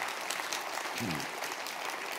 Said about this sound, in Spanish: Dale un aplauso bien fuerte al Rey bendito